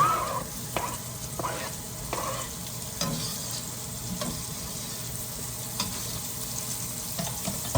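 Chopped onion fries in a pot for a one-pot paprika chicken, giving a steady close sizzle with scraping stir strokes that are more frequent early on, and no speech.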